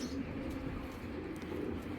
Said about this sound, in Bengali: এই কবুতরটা হলো সিলভার খাকি একটা নর